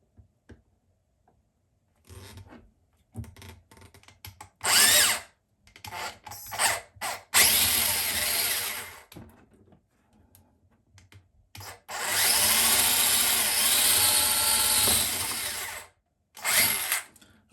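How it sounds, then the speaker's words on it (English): A power drill bores through a wooden cabinet in short bursts and then a long, steady grinding run, close by, with quiet pauses between. "the drill went through the other side."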